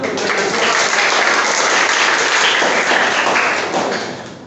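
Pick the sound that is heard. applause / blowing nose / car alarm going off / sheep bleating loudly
applause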